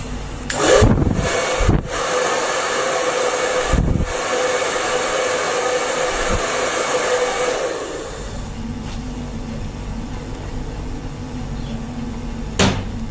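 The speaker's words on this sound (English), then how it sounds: "Dryer" A steady, loud whooshing drone of a dryer running, with a few clicks and knocks; it drops to a quieter hum partway through.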